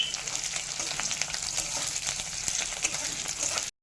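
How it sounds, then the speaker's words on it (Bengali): A tempering of dried chilli, chopped garlic and whole cumin sizzles in hot oil with a continuous, dense crackle and scattered spitting pops. The sound is close and steady, with no talking, before cutting off abruptly at the end. "সবটা খুব ভালো মতো করে ভেজে নিচ্ছি"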